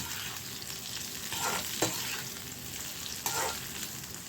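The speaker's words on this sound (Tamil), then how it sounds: "பாருங்கள், நல்லா வதக்கியாச்சு" Masala ingredients sautéing in a pan for mutton fry, a steady sizzle with a couple of sharp spoon-scrape stirs, close and without talking.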